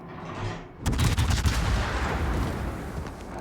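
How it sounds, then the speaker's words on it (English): A heavy naval gun salvo from the French cruiser Henri IV in World of Warships, a sudden loud boom followed by a rumbling, crackling roll that slowly fades. "That Henry's shooting way too quick"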